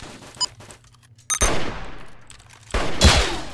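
Gunshots in a Roblox game: a faint early pop, then two loud close blasts with ringing tails, about a second and a half apart, with no talk over them.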